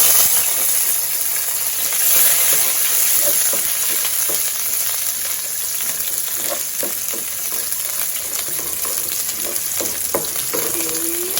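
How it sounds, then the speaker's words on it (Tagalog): Onion sautés in cooking oil for pochero, a loud, steady sizzle and hiss filling the clip, with scattered light clinks and scrapes of a utensil against the pan. "Gagamit din po tayo ng mantika, panggisa."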